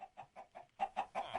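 Minecraft chickens cluck in a quick, regular series of about eight soft clucks, growing slightly louder toward the end, heard alone without talk.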